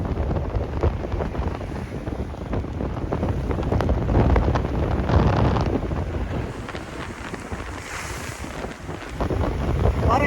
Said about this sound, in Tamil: கடல் எவ்வளோ கொந்தளிப்பா இருக்குன்னு சொல்லி கடல் சரியான கொந்தளிப்பா இருக்கு